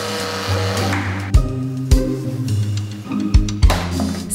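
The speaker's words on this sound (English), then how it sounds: "Mix in 25 grams of cold butter with a handheld electric blender." A handheld electric blender whirs steadily while mixing cold butter into a reduced sauce, its motor hum rising and dipping with several sharp bumps and clatters as it works, with no one talking.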